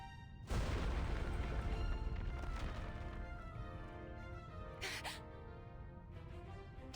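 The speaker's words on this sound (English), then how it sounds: "Is that an explosion?" An explosion in the video game Reverse 1999 bursts out suddenly as a heavy, broad boom, then decays into a long rumbling tail with a brief sharper crack partway through, loud against a quiet start.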